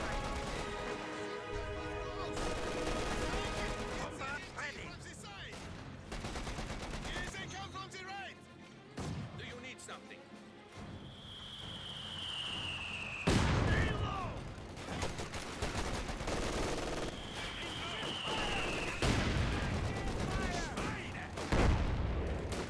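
Gunfire in a Company of Heroes 2 match: bursts of small-arms and machine-gun fire crackle through a busy battle, with sharp louder blasts and whistling shell sweeps standing out over a steady din of combat.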